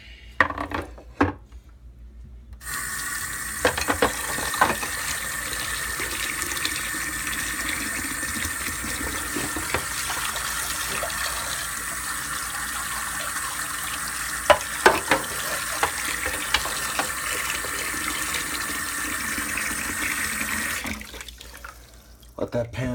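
Water from a kitchen tap pours steadily into a sink to soak a pan after making mac and cheese, a loud, continuous rushing that starts abruptly, runs for about eighteen seconds with an occasional clink, then stops.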